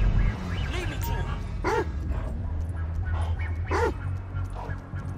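A dog in Grand Theft Auto 5 barks and yips several times while tracking a scent, sharp close barks rising over game ambience, with someone talking at moments.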